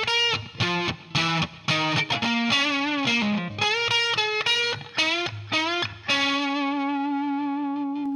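A distorted electric guitar plays riffs in a lesson setting: choppy, rhythmic phrases of separate notes, loud and close, ending on one long sustained note that rings out alone.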